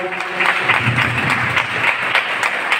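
A ceremony audience claps steadily for an honoured guest receiving a shawl and certificate, a dense, continuous patter of many hands that stays at an even level throughout with no voices standing out.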